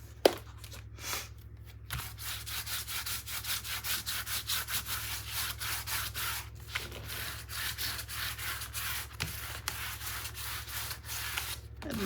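A spatula rubs and scrapes firmly across paper while a 9x9 mini album is built, in quick repeated strokes, close and moderately loud over a steady low hum.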